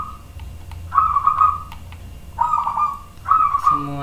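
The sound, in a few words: birds singing in the morning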